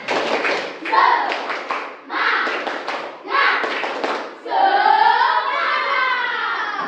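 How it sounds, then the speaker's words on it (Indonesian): A schoolroom class performs a rhythmic spirit clap: loud, close bursts of group handclaps in a patterned beat, mixed with children's chanting voices. "Sebelum mengerjakan tugas, Ibu minta tepuk semangat."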